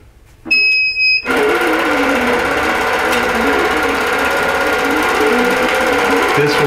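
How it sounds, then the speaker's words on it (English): A quilting sewing machine stitches along the border of a wholecloth quilt in a fast, continuous mechanical chatter, close and loud, after a brief high tone and a short start. "This will sew up the edge of the border on the left."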